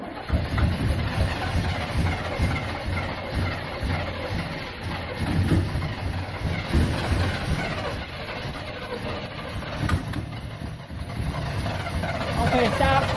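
A 1968 Chevy with a 396 big block V8, running on bad gas, rumbles in a steady, coarse roar close by, with people talking over it.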